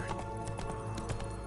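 Roach, Geralt's horse in The Witcher 3, galloping at speed, with a steady rapid rhythm of hoofbeats over a dense, continuous backdrop of game ambience and music.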